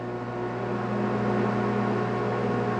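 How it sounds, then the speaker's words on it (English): A microwave oven runs with a steady, even electrical hum and whir, close and constant for a few seconds. "now let me start the microwave again"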